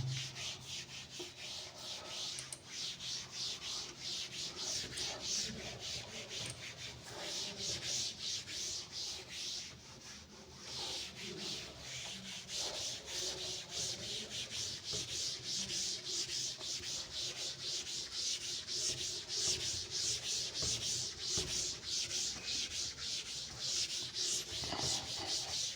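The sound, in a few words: erasing a board by rubbing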